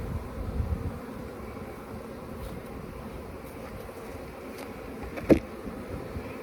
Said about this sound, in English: Most of the bees are in this top box.